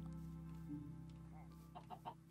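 Chickens clucking in the video game Minecraft, a few quick, soft clucks near the end over a quiet, droning background.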